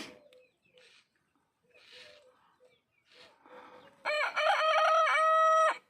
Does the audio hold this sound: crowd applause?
no